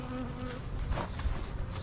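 Honey bees buzzing steadily at an open hive during brood inspection in an almond pollination operation, a close, dense droning hum with no talk.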